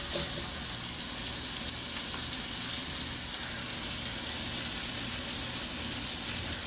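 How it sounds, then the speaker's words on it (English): Pork steak sizzling in bacon grease in a frying pan, a steady, loud, continuous hiss and crackle with no talk over it. "I like to season it on one side and put that side down in the pan"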